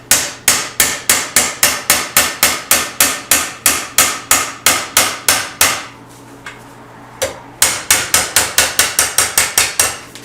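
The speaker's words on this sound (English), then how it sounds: "so I can bend them right and then I can hammer them nice to the shape" Metal parts struck with a hammer while being shaped on an Indian Trailblazer motorcycle, a fast, steady run of sharp ringing blows, a brief pause with a few scattered taps, then another quick series of close, loud strikes.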